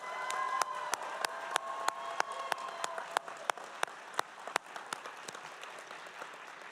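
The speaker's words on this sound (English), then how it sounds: "Let's give him another round of applause." Audience applause at an adult high school graduation ceremony: dense clapping from a crowd with sharp individual claps standing out in a steady rhythm, fading slightly toward the end, with no talking.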